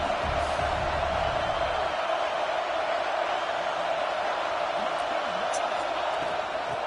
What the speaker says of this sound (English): Here comes second down, and this crowd is turning it up a notch.